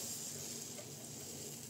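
Batter hitting a hot frying pan without ghee or oil for a crispy breakfast snack, giving a steady, close sizzle with a broad hiss that holds evenly throughout, no voices.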